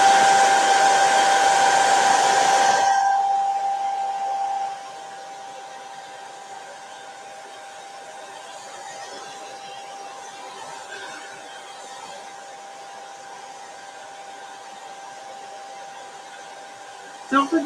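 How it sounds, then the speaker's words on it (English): A hair dryer on a cool setting blows steadily for about three seconds, then cuts off, leaving a faint lingering hum and quiet room noise, with a couple of small clicks at the end. "I'm going to get my blow dryer out and I'm just going to lightly blow dry this"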